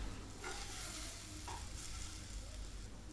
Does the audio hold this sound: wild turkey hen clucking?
no